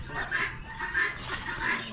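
Turkeys at an Amish animal auction call out in three nasal, warbling bursts, close and moderately loud, over a busy background murmur.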